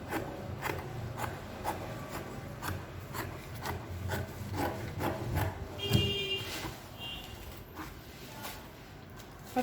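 Fabric for a baby ruffle dress is being cut on a table, producing a series of close, crisp rasping snips and rustles at an irregular rhythm, with no voices over them.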